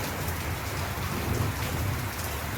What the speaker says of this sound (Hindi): सवेरे से इतना तेज़ बारिश हो रही है